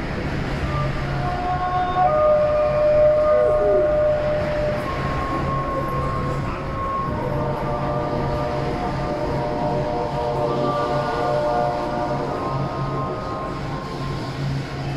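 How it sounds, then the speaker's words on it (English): Train rolling into its final station, a continuous low rumble of wheels on track with faint squealing brake tones rising and fading over the steady mechanical hum, no voices. "The train is arriving at the final station."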